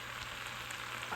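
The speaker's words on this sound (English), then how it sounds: "This is sizzling." Pork fried rice sizzles steadily in a hot pan, a close, even hiss of frying with no voices over it.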